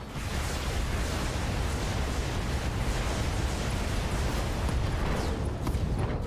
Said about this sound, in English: Internal ammo explosion detected. Target destroyed.